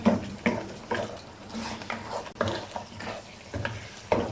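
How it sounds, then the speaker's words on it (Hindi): Mutton karahi sizzles in the pan while being stir-fried, with a continuous frying hiss broken by rhythmic stirring scrapes and clinks of a spatula against the pot, close up and without talking. "तकरीबन 2 से 3 मिनट तक भूनेंगे इसे"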